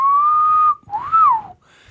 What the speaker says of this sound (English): Is that the noise it makes when it's whistling in over there on the pan?